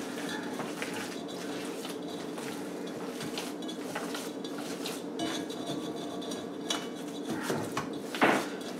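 Homemade meatball mixture seasoned with pepper is worked together in a bowl, giving a soft, steady clatter of utensil against dish with a faint rustle throughout and one sharper knock near the end.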